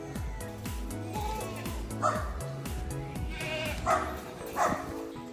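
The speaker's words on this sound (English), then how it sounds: "I'm going to feed the Sonnens. It's Sonnen or Saanen, and they are one of the top milk goat breeds." A large herd of Saanen milk goats bleats insistently at feeding time, many overlapping calls rising and falling close by, some louder cries standing out, with a dog-like bark mixed in.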